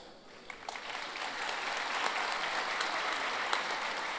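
Audience applause at an award ceremony for a centennial anthem poetry competition, a broad, steady roar of many hands clapping that swells slightly and holds, heard from a distance.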